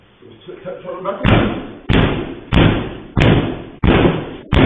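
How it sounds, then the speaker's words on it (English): A man kicks at doors inside a podcast studio, picked up on security camera audio: five heavy slams land about every 0.6 seconds, loud and booming, after a stretch of muffled talk. "allegedly showing Jones trying to kick down doors inside his own podcast studio after the locks got changed on him"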